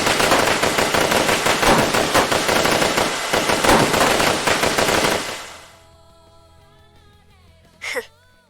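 Dense, rapid gunfire rattles loudly for several seconds, then fades out, leaving quiet ringing tones and a brief sharp burst near the end.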